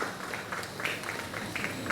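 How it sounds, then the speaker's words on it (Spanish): Audience clapping at a book presentation for a poetry book, a steady wash of many hands applauding in a hall with scattered louder claps, no voices over it. "Aplausos nuevamente para nuestros tres invitados de honor."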